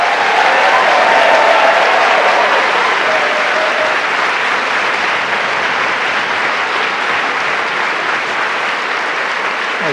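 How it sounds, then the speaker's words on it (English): A large indoor audience at a London evening event gives the participants a sustained round of applause, a thick, even roar of clapping that holds steady for about ten seconds with slight fading toward the end. "So a huge round of applause for the participants."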